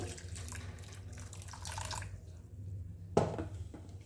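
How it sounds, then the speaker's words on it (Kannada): Hot water is poured into a baby weight gain juice, a soft, steady trickle of liquid with a small splash or drip near the end, faint and without speech. "ಈಗ ನಾನು ಇದಕ್ಕೆ ಸ್ವಲ್ಪ ಹಾಟ್ ವಾಟರ್ನ ಮಿಕ್ಸ್ ಮಾಡ್ಕೊಳ್ತಾ ಇದ್ದೀನಿ"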